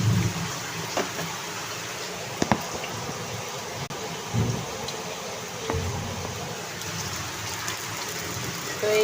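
Soft, steady rain falls outside, a faint even hiss with occasional small thumps and clicks nearby.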